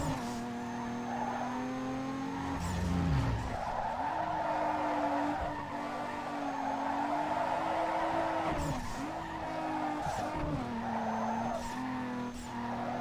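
Tires squeal and skid continuously in Need for Speed Underground 2, a loud sustained screech over a steady engine drone, rising and dipping as the car slides with little rear traction.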